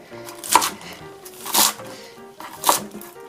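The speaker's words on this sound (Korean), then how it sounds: "대파는 송송 썰고 양파는 채 썰고 풋고추는 어슷 썰고" Knife chopping green onion, onion and green chili on a board for a cucumber and young cabbage water kimchi, three sharp separate cuts spaced about a second apart, close and clear, with no talking.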